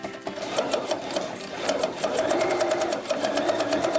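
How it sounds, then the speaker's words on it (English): A sewing machine stitches pairs of quilt fabric pieces together, running continuously with a rapid even needle clatter and motor hum, close and steady throughout with no speech. "For each block, I'm going to sew together these same pair of fabrics."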